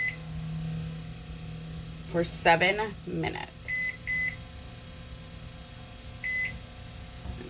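An oven timer gives several short, high electronic beeps, spaced irregularly while it is being set for sublimating a shot glass, with a person talking nearby between and around the beeps.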